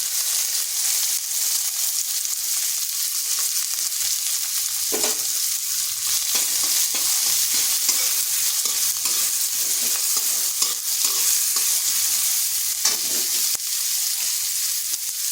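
Chopped onion hits hot oil with whole cumin seeds in a pan, giving a steady, loud, close sizzle with scattered crackles and a few stirring scrapes throughout, no voices.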